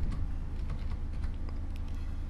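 A run of quick keystrokes on a computer keyboard while entering a command, close and crisp clicking with an even rhythm, with no talking over it.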